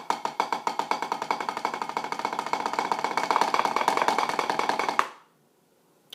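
Fast double stroke roll on a drum, a dense, rapid stream of crisp strokes building slightly in loudness for five seconds, then stopping abruptly into near silence.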